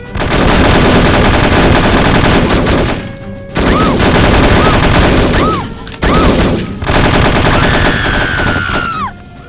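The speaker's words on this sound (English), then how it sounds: "Someone's firing." Loud, continuous machine gun fire from the video game N.O.L.F., three long sustained bursts separated by brief pauses, with faint whistling tones riding over the gunfire.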